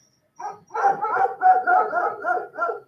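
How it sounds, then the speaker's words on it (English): Dogs bark in a close, loud run of about eight rapid, evenly spaced barks that carry on without a break, with no one talking over them. "Oh, these dogs."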